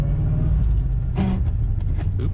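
A 1990 Chevy Corvette C4 pulls hard through its gears, its engine giving a deep, throaty rumble close by that swells and shifts in pitch, with a brief clunk partway through.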